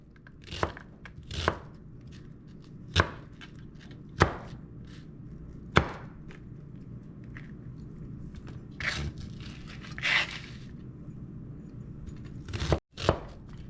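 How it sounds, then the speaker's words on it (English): Knife chopping food on a cutting board while preparing cheeseburger pasta, a dozen or so sharp, separate knocks at uneven intervals, close and clear with no talk. "I'm just gonna chop that up real quick, dice it as fine or as large as you would like"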